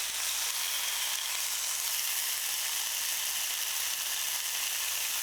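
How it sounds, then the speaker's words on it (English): Four slices of bacon frying in a pan at home, giving a steady, even sizzle with a dense crackling hiss that never lets up, close and alone with no talking. "we're going to get the bacon cooking"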